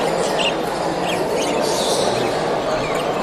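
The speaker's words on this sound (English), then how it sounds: "Hey, this is just a lot of the small parrots." Small pet parrots from Australia chirp at a small bird show, with scattered high twittering calls over a busy background hum, fairly faint and overlapping.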